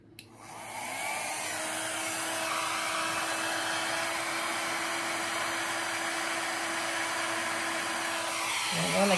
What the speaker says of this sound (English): And I'm gonna use my little blow dryer.